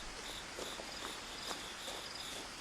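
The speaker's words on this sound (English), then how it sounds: "Also, these crickets." Crickets chirp steadily at night in the video game What Remains of Edith Finch, a dense, continuous insect trill that fills the ambience at moderate level with no talking.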